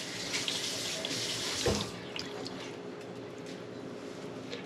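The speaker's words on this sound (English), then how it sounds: "If you want to grab just a little bit of water in that and toss that in here as well." Water runs steadily from a tap into a pot, a continuous close hiss and splash with a brief bump partway through, heard alone without talk.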